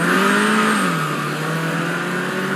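Car engine revving in a radio ad for the all-new 2021 Kia Sorento with an available 2.5-liter turbo engine, a steady loud rising and falling drone that carries on without a break and with no speech over it.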